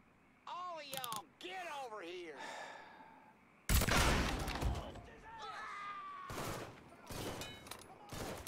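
Gunfire in the video game Mafia III Definitive Edition erupts as a loud burst of shots, with further sharp bursts later, mixed among game voices and sighs.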